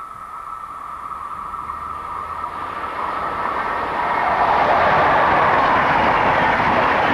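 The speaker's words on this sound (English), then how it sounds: "approaches the closed station at Gofeld, around 20 kilometres to the south of Minden, with the southbound Interregional working" DB Class 103 electric locomotive hauling a southbound Interregional passenger train past a closed station, a steady rushing roar that swells louder as it draws near, with faint rail clatter and no talk.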